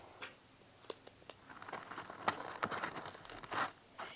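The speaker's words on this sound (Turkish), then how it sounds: "üstünden tekrar bir daha bantlayacağım" Adhesive tape being wrapped tightly around a handmade paper daisy decoration, faint crinkling and sharp little tearing pulls in irregular bursts, close and quiet with no talk.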